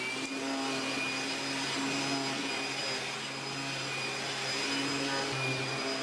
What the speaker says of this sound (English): I brought along a special vacuum cleaner